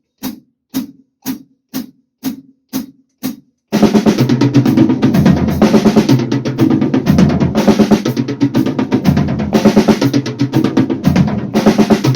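Several steady single drum strikes, then a dense, fast run of sixteenth-note hits rolling across the drums of a kit, loud and continuous.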